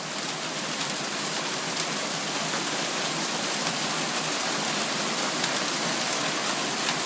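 Heavy rain mixed with hail pours down on a backyard in Calgary, a dense, steady roar of drops with no letup, fairly close and without voices.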